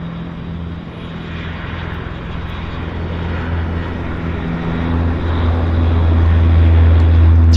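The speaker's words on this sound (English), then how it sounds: "that Central Mountain Dash 8 is now lining up on the button there of runway 26 left for departure" A Central Mountain Air Dash 8 turboprop begins its takeoff roll on runway 26 left at Vancouver International Airport, its droning propeller roar steadily growing louder from a distance.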